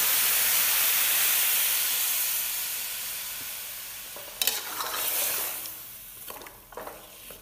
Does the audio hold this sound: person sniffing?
no